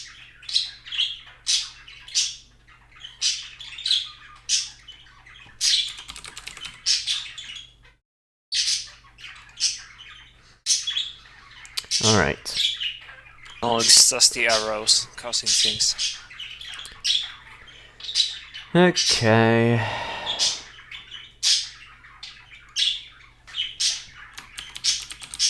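Squawks and chirps from in-game birds in the video game Eternal Mist repeat throughout, bright and busy, mixed with talking and a few keyboard clicks.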